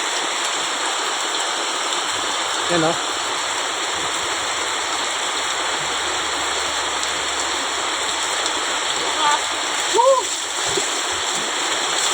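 Floodwater flows steadily during heavy rain, carrying garbage down from higher ground, a continuous rushing, splashing wash that lasts throughout, with a few brief voices calling out over it.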